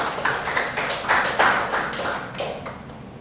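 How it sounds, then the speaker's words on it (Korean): A church congregation at a Wednesday worship service bursts into applause, a dense patter of many hands clapping at close range that swells, stays busy for a few seconds and then tapers off. "하나님께 영광의 박수를"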